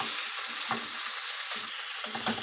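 A hamburger patty sizzles in a pan with cheese melting on top and onions alongside, a steady close frying hiss with soft stirring or scraping bursts and no voices.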